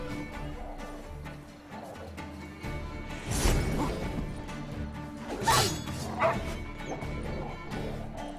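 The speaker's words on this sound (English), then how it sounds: "And the freaking dogs join in the fun." Dogs in The Witcher 3 bark and yip in sharp bursts amid combat crashes and swooshes, with some louder hits mixed in.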